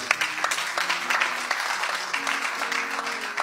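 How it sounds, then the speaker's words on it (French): A church congregation claps in a steady wash of applause, with voices and sustained tones mixed underneath. "Acclamez Jésus"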